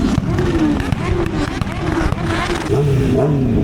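Motorcycle engines rev hard and repeatedly at the MotoGP campsite in Le Mans, rising and falling whines close by, with crowd noise and talking in the background.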